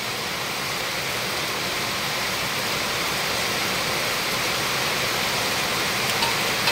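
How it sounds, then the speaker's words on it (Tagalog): Heavy, unrelenting rain pours down steadily as a dense, even hiss that fills the whole stretch without a break, heard during home cooking of monggo. "Ay, grabe yung ulan, di na tumigil talaga."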